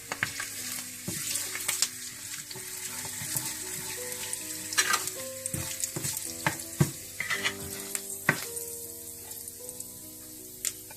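Whole cumin, dried chillies, asafoetida and curry leaves sizzle in hot oil for a pakora kadhi tempering, with crisp pops and crackles over a steady close fry and the occasional stir, no talking.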